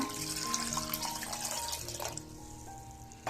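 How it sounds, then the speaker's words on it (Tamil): Water pours and splashes into a cooking vessel for a couple of seconds while making paasi paruppu payasam, then fades to quiet trickling; fairly faint and close. "ஒரு 3 டம்ளர் தண்ணி ஊற்றிக்கங்க."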